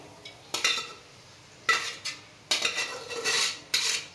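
A spatula stirs cabbage fry in a pan, producing several sharp metallic scrapes and clatters against the pan at uneven intervals over a faint sizzle.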